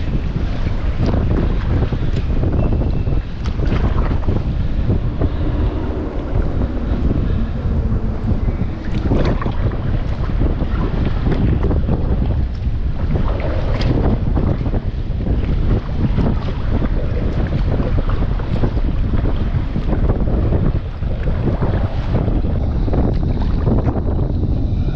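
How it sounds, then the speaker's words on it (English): Strong gusting wind roars and buffets the microphone continuously on a kayak on Tallebudgera Creek, with rumbling low noise and a watery, boat-like wash underneath. "it's getting windy"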